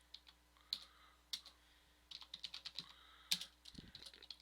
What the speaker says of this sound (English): Tab over, type in budget. Tab over, type in number or hashtag